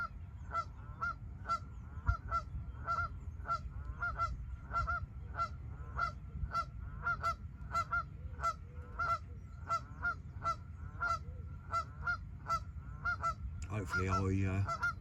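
Geese honk repeatedly at night beside a carp fishing spot, a steady run of short nasal calls spaced about half a second apart, moderately distant over a low background rumble, with a brief burst of louder activity near the end.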